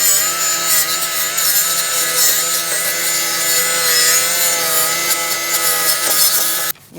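Steady abrasive scrubbing of a wire brush working rust off the front brake hub of a 2008-2014 Mercedes-Benz C300, continuous and close, cutting off abruptly near the end; no talking.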